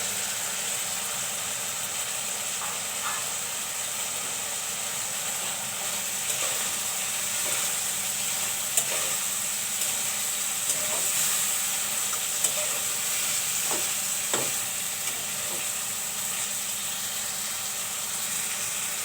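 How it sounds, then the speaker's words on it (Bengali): Dried fish (shutki) frying in a pan, a steady soft sizzle with occasional faint clicks and stirring, continuous and moderately close with no voices. "শুটকিগুলো একটু ভুনা করে নেবো"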